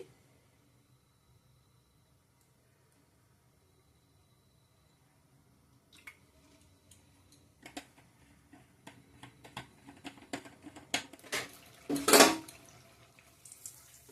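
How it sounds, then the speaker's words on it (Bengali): Oil goes into a hot kadai for frying pitha: silence at first, then scattered ticks and crackles build into a brief loud sizzling burst before settling into lighter popping. "কড়াই গরম হয়ে গেছে এখন আমি তেল দিয়ে দিচ্ছি"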